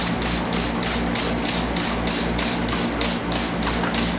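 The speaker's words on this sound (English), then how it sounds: "really spray the distilled water in those, make sure they're all cleaned out." Distilled water sprayed in short repeated bursts to rinse anodized metal parts with tapped holes, a steady rhythmic hiss close to the mic over a low hum of equipment.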